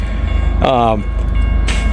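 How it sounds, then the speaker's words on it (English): A train rumbles steadily nearby, and a brief blast of its horn sounds partway through over the constant low running noise. "We're gonna get a train."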